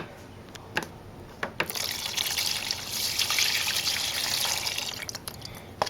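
Gasoline-diluted engine oil from a Suzuki DR650 trickles steadily into a drain pan beneath the removed oil filter, a continuous close splashing stream with a few brief drips at the start.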